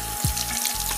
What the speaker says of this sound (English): To clean these tubes with warm water, as the instructions say.